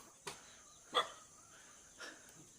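A dog barks three times, short, sharp and fairly faint, spaced irregularly against a quiet background.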